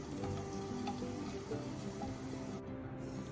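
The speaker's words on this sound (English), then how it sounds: "Add cashews and raisins according to your choice." Cashews and raisins fry in a pan for a semiya payasam, giving a steady, close sizzle with faint stirring; the hiss thins out near the end.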